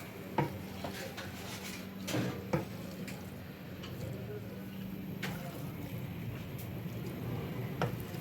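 Thick curry scraped and ladled from a pot into a bowl in a home kitchen, with soft clinks of metal on dishware, wet squishing and a low steady hum while people talk nearby.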